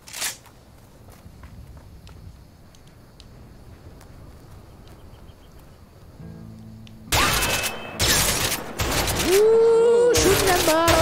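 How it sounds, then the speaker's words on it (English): Gunshots in the video game A Way Out, fired at bottles, come in sharp bursts late in the clip after a long quiet stretch of soft ambient noise and footsteps. "Ooh, shooting at bottles. This one has a lot of recoil, though."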